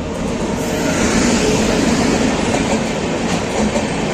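The 13151 Jammu Tawi Express rolls along the tracks between Kolkata and Gaya, its wheels giving a constant close, loud rumble with faint clickety-clack beneath it and no speech.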